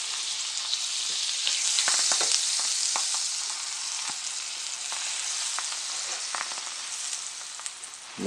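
Ham steak sizzles in butter on a grill for a breakfast sandwich, a dense, steady hiss of frying with a few small pops and scrapes, close and loud, with no voices.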